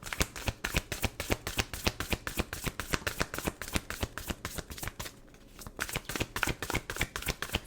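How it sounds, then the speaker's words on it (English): A deck of tarot cards shuffled by hand in a rapid, regular series of crisp riffling bursts, close and clear, with one brief pause before the rhythm resumes; no talking. "I don't know why I'm shuffling again."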